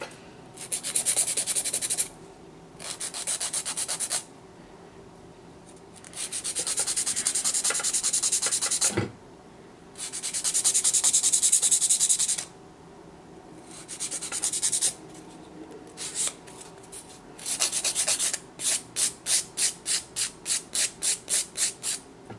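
A nail being filed to a rounded shape for a short purple almond nail design: close, scratchy rasping in repeated bursts of a second or two, ending in quick rhythmic back-and-forth strokes, no talking.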